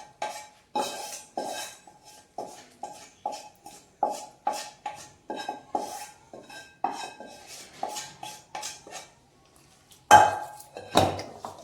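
Metal spoon scraping and clinking in a pan as hot tempering is tipped into cooked rice and stirred through for Kerala-style lemon rice, a steady run of close, rhythmic scrapes and taps with a louder clatter near the end.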